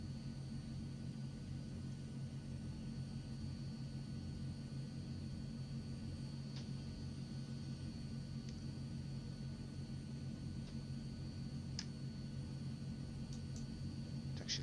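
Twin turboprop engines of a Transall C-160 in a flight simulator game, a steady, droning rumble with a constant whine, heard alone and unbroken at a moderate level.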